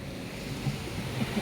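Sea waves rolling onto the Konkan coast at Malvan, Sindhudurg, a broad continuous wash and rumble with wind buffeting the microphone.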